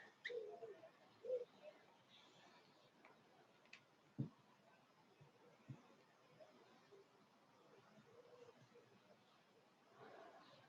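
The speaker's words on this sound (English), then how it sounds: "at the moment it's mainly the wood pigeons" Wood pigeons cooing softly in the distance outdoors, a few faint repeated coos over a quiet background with occasional small knocks, no speech.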